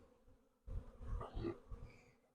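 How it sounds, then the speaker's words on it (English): Honey bees shaken from a frame into a hive box being populated for grafting give off a sudden swell of soft, close buzzing that rises, wavers and trails off within about two seconds. "I'm shaking these bees out of that other box in here"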